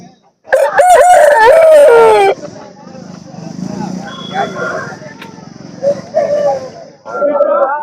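A rooster crows loudly and close at a weekly hen market in Punganur, one long strained call early on, followed by market chatter and people talking, with brief clucks and another bird call near the end.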